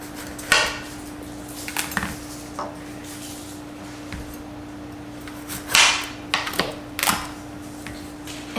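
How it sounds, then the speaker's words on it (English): A knife cuts through squash on a board in a kitchen, a few sharp irregular knocks and clacks spaced apart over a steady low hum. "once you've cut off the stems, you're going to cut these in half"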